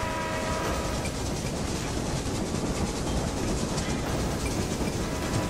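Steady rumble and rolling clatter of a steel freight train running in the Railway Empire game, crossing the Andes, continuous and fairly loud throughout with no talking.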